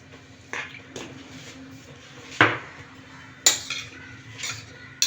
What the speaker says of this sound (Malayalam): അതിട്ടൊന്ന് നന്നായിട്ട് ഇളക്കുക.